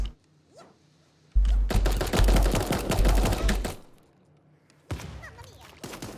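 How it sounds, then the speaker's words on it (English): A submachine gun in Super Animal Royale lets off a long, dense burst of rapid, loud shots at close range, then stops, and a few scattered game sounds follow. "this SMG I think does better than M16 when you get that close up"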